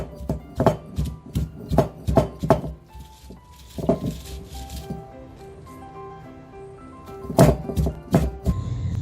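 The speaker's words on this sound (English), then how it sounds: "We crush the coconut to release some oil and milk from it. It's the same with the chillies and curry leaves." Coconut, green chillies and curry leaves are crushed by hand for Onam sadya aviyal: a run of heavy, rhythmic thuds up close, then a pause, then another burst of dull pounding.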